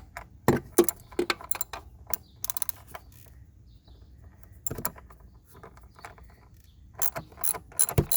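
A ratchet works a bolt loose on a 2011–2013 Dodge Durango engine, giving close, quick bursts of clicking pawl strokes separated by short pauses and a few metallic clinks, with no voices.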